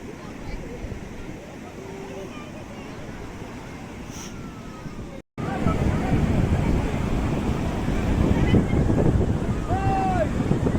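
Wind and sea waves on the beach at Puri roar as a steady, loud wash of noise, cut by a brief dropout midway and growing stronger afterward, with faint thin tones over it.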